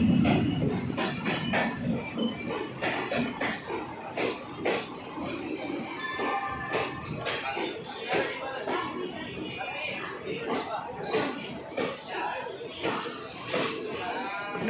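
Ambala Delhi Intercity Express pulled by a locomotive departing Jagadhri Yamunanagar station, with rhythmic clattering of wheels over rail joints and rumbling carriages close by, a voice talking over it throughout.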